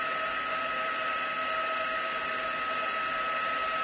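A heat tool melts embossing powder with a steady, close, loud whirring blow of air and a constant high motor whine, with no talking.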